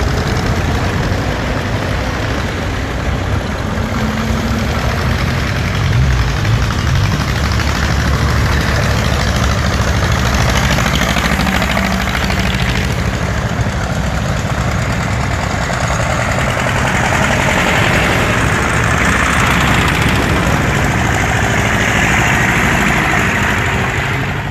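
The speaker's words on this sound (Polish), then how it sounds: "Jest, traktory jadą!" Vintage tractors set off at the start of a classic tractor rally in the Bieszczady mountains, a steady, loud low engine drone with rumbling, knocking idle running continuously throughout, no talk.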